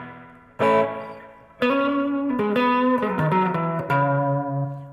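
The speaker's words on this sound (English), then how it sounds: "This actually has reverb built into it." Clean electric guitar chords ring out through an amplifier's built-in reverb, leaving a reverberant tail; several strums sustain and fade, no talking.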